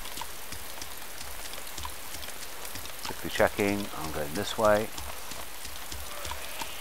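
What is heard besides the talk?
rain in the video game DayZ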